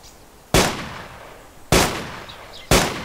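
Three heavy, booming shots from an M107 rifle in DayZ, each a sharp loud crack with a long decaying echo, spaced about a second apart.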